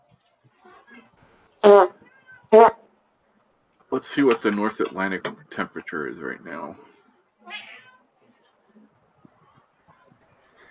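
Two short, loud meows from a nearby cat stand out, followed by a person speaking at length.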